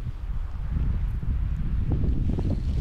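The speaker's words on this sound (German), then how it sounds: "Der Wind knallt dir von der Seite genau rein" Strong gusty side wind buffets the microphone at a trout fishing spot on the Oxriver in Denmark, a dense low rumbling roar that swells and surges continuously without speech.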